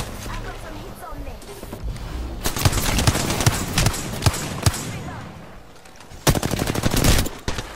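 Dense gunfire in the video game Apex Legends: rapid automatic bursts and sharp single shots in clusters, loud and close, with players talking over it.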